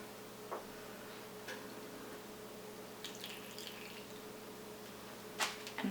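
Coffee water drips from dyed paper onto a cookie sheet as a few faint, scattered soft taps over a steady low hum, with a slightly louder patter near the end.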